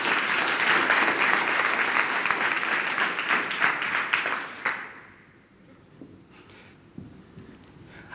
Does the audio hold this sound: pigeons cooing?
no